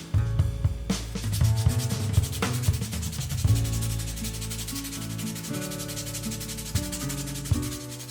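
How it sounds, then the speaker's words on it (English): Steady back-and-forth rubbing of hand sanding on a metal tube of a Millers Falls No. 35 auger bit extension, a continuous gritty scraping with uneven strokes, close by and with no talking. "So I'm going to sand this down and smooth that up too."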